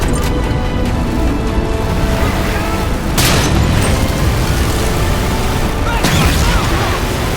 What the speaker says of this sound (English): I really hate the way the Ghost Warhog turret sounds in this game